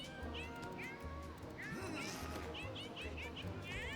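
Kittens in the Mewgenics video game meowing in short repeated chirps over a looping game soundtrack, with a voice talking under them.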